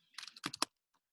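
Quick bursts of typing on a computer keyboard, a short flurry of soft clicks and taps close by in a quiet room, trailing off into near silence.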